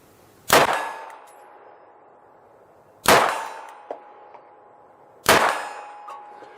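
Three loud pistol shots spaced a few seconds apart, each followed by a ringing metallic clang as rounds strike a steel target at 50 yards outdoors, the tones decaying slowly between shots.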